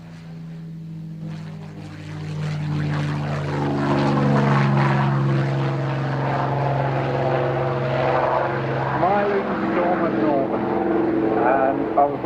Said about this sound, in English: Just watch this beautiful aircraft power its way through the sky.